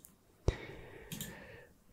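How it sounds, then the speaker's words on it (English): A single sharp computer mouse click stands out clearly, followed by a softer rustle during a whispered ASMR Geoguessr session, close and quiet with no speech. "I know some people have told me they like the mouse clicking sounds"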